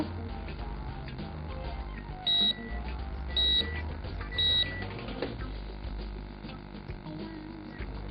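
Three short, bright electronic beeps from a microwave oven timer about a second apart, clear and close, over a steady low hum of background noise.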